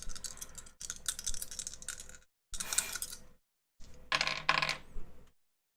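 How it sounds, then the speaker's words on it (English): Several percentage dice rattle and clatter onto a hard surface in three quick bursts, the third landing with a bright scatter of clicks before stopping; no one talks. "will you roll percentage dice for me?"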